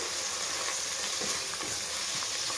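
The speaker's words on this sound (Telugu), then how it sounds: "ఈ పాలకూర వేగుతుండగానే గ్రీన్ పీస్ కూడా యాడ్ చేసుకోవాలి గ్రీన్ పీస్ అండ్ సాల్ట్ కూడా మసాలా పౌడర్ వీటన్నిటిని కొంచెం సేపు వేయించుకోవాలి" Spinach, green peas, salt and masala powder fry together in a pan for masala rice, making a dense, steady sizzle with faint stirring scrapes, close and continuous with no talking.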